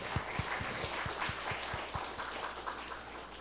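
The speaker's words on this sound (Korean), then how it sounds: "우리 박수 한번 드리십시다." A church congregation claps together during a Sunday service, a steady patter of applause with sharp close hand claps standing out.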